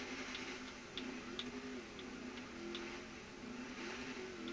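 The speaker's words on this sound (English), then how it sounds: "Muscle cars are not built for off-roading." Muscle car engine in GTA 5 driving and sliding off-road, a steady droning hum with gentle rises and dips in pitch, continuous and fairly loud throughout, with faint ticking clicks over it and no talking.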